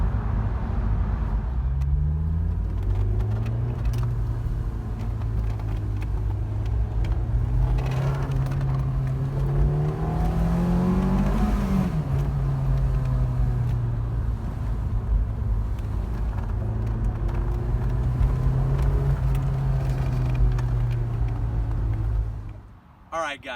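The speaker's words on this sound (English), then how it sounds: "I like the sound, even though this car has the stock exhaust." Honda S2000 sports car with the stock exhaust, its engine droning loudly and close from inside the cabin, the pitch rising steadily through the gears and then falling back before fading out at the end.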